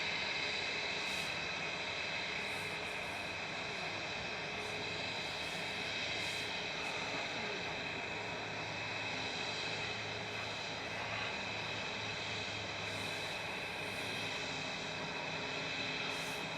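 Jet engine start-up at Manchester Airport, an EasyJet or Lufthansa airliner, giving a steady grinding, whining roar with tonal hums that holds at an even, moderately distant level throughout.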